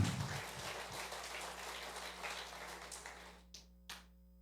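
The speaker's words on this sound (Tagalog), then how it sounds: "Malakas na palakpak sa ating Panginoon" A church congregation applauds, a dense sustained wash of clapping that thins out and ends in a couple of final isolated claps, moderately distant.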